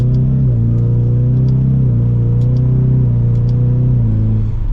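A 2022 Ford Mustang EcoBoost with the High Performance Package pulls away and accelerates, its engine droning steadily and close by, the pitch rising and dropping slightly with each gear change. No one speaks.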